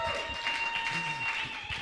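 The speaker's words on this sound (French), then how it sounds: "Let us applaud for the Lord." A church congregation applauds together, a brief wash of steady clapping with some voices mixed in at moderate loudness.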